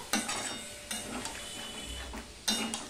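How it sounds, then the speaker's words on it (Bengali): A spoon stirs and scrapes spiced masala with chilli powder and a splash of water in a hot pan, with a low steady sizzle and a few sharp clinks against the metal, close up and without talk. "এবার মশলাটা ভালো করে কষিয়ে নেব, মিশিয়ে নিয়ে।"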